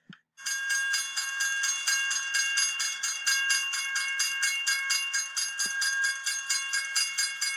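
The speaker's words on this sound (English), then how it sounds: "That's the sound of the railroad crossing." A railroad crossing bell rings steadily in fast, even metallic strikes, loud and continuous for several seconds after a brief thump at the start, with no voices.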